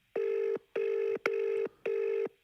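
A telephone rings on an incoming call, giving four even electronic bursts separated by short gaps. The rings are clear and fairly near, with no talking over them.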